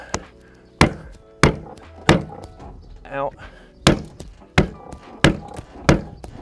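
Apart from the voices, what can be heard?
banging camper van window frame into place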